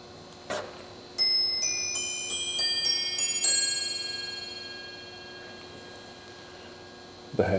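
A New Haven eight-bell chime clock plays its quarter-hour chime: a short run of clear, ringing bell notes struck one after another, each left to decay into a long, slowly fading resonance in a quiet room.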